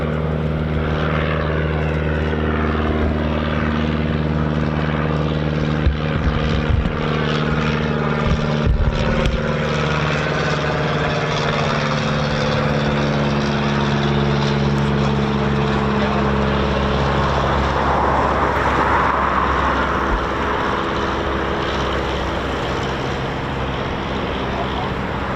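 A propeller training aircraft flies at an RAF station, its engine holding a steady, fairly loud drone with a buzzing harmonic tone throughout, along with some wind noise.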